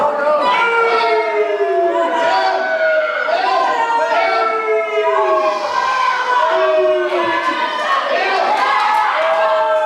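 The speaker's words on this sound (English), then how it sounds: "The crowd is just completely drowning him out." Loud wrestling-show crowd chanting and shouting in unison, a dense sustained roar with rising and falling chant rhythms that completely swamps any single voice.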